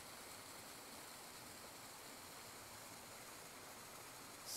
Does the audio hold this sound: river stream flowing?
yes